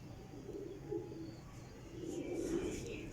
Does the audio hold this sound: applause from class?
no